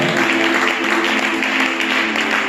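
A church congregation at a Sunday service claps and cheers, a dense, loud, continuous wash of applause from many people close by.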